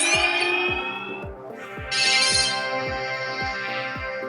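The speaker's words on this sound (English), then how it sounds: "Lots of different futuristic electric kind of sounds." A synthetic, futuristic electronic tone with bright layered harmonics and a steady pulsing beat underneath, holding loud and continuous with a brief shift partway through.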